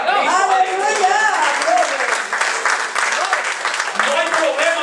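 Church congregation applauding during a bilingual Spanish-English service, steady clapping running underneath sung or spoken voices that rise and fall over it.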